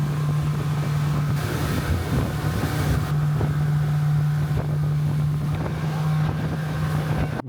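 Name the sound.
boat ride on the water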